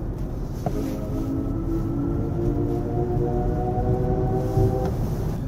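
An electric car accelerates hard, its steady rising whine droning over a loud, constant rush of wind and road noise, close and sustained throughout with no engine roar.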